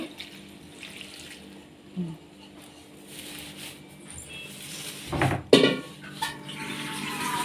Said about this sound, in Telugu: ఇలాగా నిండగా నీళ్ళు వేసేస్తున్నాము